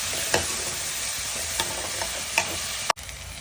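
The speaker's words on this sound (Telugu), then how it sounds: "మిక్చర్ని ఎత్తి వేసుకొని బాగా కలుపుకోవాలన్నమాట" A paste of blended tomato, coriander and mint is stirred in a hot pan for a fish curry, giving a steady sizzle and frying hiss with scattered soft scraping clicks of the spoon.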